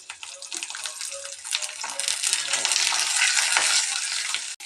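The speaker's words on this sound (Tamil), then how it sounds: "வெங்காயம் ஃப்ரை ஆகிடுச்சு" Small onions frying in hot oil in a kadai for mutton gravy, a steady loud sizzle and crackle running throughout with occasional stirring scrapes.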